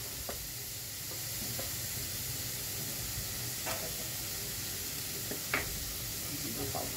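Vegetable stuffing of potato and paneer sautéing in oil in a pan for cheese veg bread rolls, a steady low sizzle with occasional soft stirring clicks, faint and continuous.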